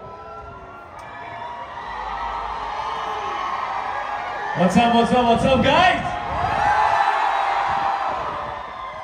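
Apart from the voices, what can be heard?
crowd cheering at Global Village, Dubai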